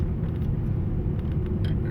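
Race car engine held at full throttle through turn 3 at Virginia International Raceway, a loud, steady low rumble that drones on without a break for the whole stretch.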